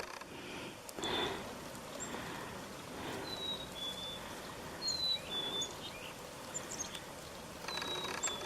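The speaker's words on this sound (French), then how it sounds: "c'est une mésange. Une mésange à tête noire." Faint black-capped chickadee calls ring out in a snowy winter woodland, a few thin high whistled notes scattered over a quiet outdoor hush, somewhat distant.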